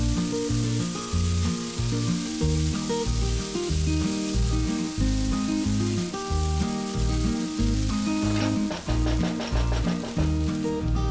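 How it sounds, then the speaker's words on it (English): Green peas and ginger garlic paste fry in a pan for mutton keema biryani. A soft, steady sizzle hisses beneath prominent background music throughout. "add 2 tablespoons ginger garlic paste and fry it for about 2 to 3 minutes"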